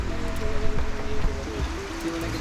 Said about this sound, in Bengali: এই তো প্রচুর বৃষ্টি হচ্ছে